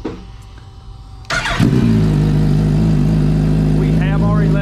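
A 2022 Suzuki Hayabusa motorcycle fitted with a Brock's exhaust, already partly warmed up, fires up after a quiet moment and settles into a loud, steady, deep idle close to the microphone.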